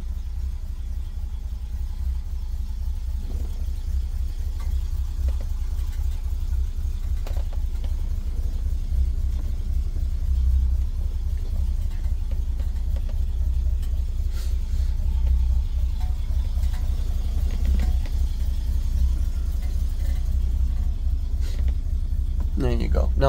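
A 1964 Oldsmobile Dynamic 88, a full-size sixties car, rolls around the block with a steady low engine rumble throughout, interior road noise and occasional faint clicks and creaks, heard from inside the car.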